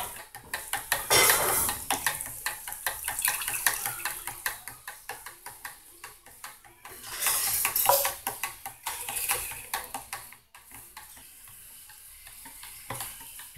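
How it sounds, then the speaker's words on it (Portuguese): Homemade soap of used cooking oil, alcohol and papaya leaf stirred in a pot, with rapid, irregular scraping and clattering of a utensil against the container, close and continuous, with no talking. "Vamos mexendo."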